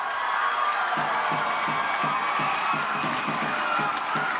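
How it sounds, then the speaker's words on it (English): Pikeville Panthers fans at a 1998 high school basketball game against Paintsville roar and cheer loudly in a packed gym, with a steady crowd din and rhythmic stomping or clapping beneath it. "the Pikeville fans are absolutely going crazy. They are standing up, cheering."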